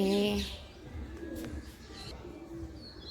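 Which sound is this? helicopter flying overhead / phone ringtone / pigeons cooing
pigeons cooing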